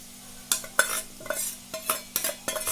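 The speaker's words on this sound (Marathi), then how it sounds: "मिक्स करून घेतली आपण पूर्ण भाजी" Wild baphali greens being stirred and mixed in a pan, with a spoon scraping in several distinct strokes at an irregular rhythm, close and moderately loud, over a faint background hum.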